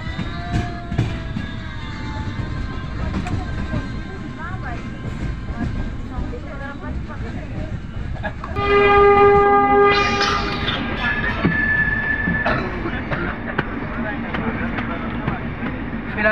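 A train rumbles past nearby with steady rolling noise, then a loud sustained horn blares for a few seconds before the clatter continues.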